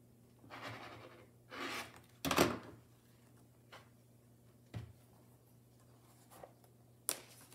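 Rotary cutter or scissors slicing through fleece and flannel quilt fabric on a cutting mat, a few short scraping cuts and light taps, close and quiet with no talk.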